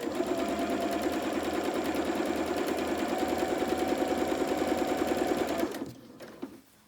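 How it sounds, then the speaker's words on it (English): A sewing machine stitches along the length of lined-up fabric edges in a rapid, steady mechanical whir, close and loud, stopping near the end with a brief clunk. "press a foot down, and then just sew all the way along the length"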